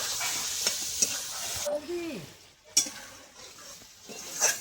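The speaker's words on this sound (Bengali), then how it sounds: "এইভাবে আমি একটু নেড়ে চেড়ে নেবো 2 মিনিট মতো" Potatoes with cashew paste are stirred in a frying pan, a spatula scraping and clinking against the metal over a constant sizzle, with a few sharp taps and a brief murmur of voice.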